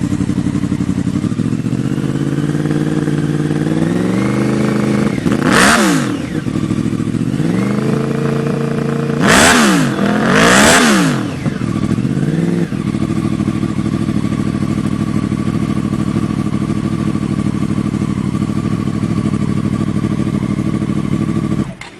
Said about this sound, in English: here is a R1 Yamaha.